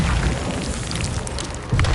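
A Confringo blast spell from the Hogwarts Legacy video game, a dense, rumbling burst of noise that fills the whole moment and swells again with a low boom just at the end.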